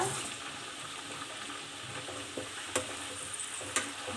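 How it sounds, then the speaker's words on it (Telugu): Chicken pieces fry in hot oil for pickle, a continuous close sizzle with occasional stirring clicks and pops against the pan, no talking. "ఇలా వేసి బాగా గోల్డెన్ బ్రౌన్ కలర్ వచ్చిన దాకా వేపాలి."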